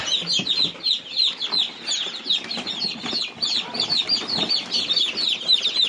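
Many newly hatched chicks cheep in high, rapid, overlapping chirps close by in a coop, with faint rustling and fluttering among them in an enclosed space.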